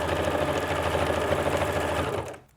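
A sewing machine runs steadily, back-stitching the straps of dungarees, close and fairly loud with a rapid even rhythm for about two seconds before stopping abruptly, no voices.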